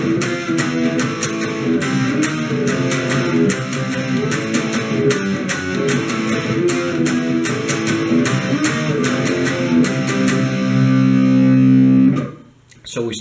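Distorted electric guitar riff played continuously with rhythmic picking, ending on a held ringing chord that cuts off abruptly.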